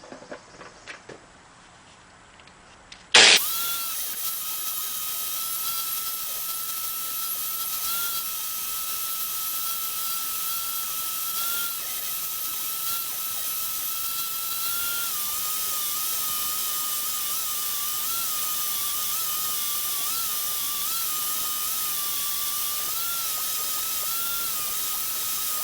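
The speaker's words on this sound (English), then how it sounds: "So I'm going to hit this on this wire wheel and clean it up." A bench wire wheel spins against a metal part off a Honda CT90 motorcycle, cleaning it. After a brief quiet start, a loud, steady whirring hiss with a constant whine runs without a break for over twenty seconds.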